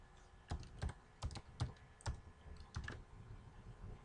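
Close, quiet typing on a computer keyboard during C programming work, in short irregular bursts of sharp key clicks with pauses between them.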